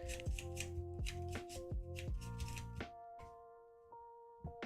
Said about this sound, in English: Encounter deck is gone, so we need to shuffle it.